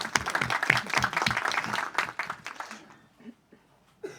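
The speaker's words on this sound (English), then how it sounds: "a warm round of applause" Audience applause at a breakfast talk, a dense round of clapping that swells and then thins out after about three seconds, leaving a few scattered claps and murmurs.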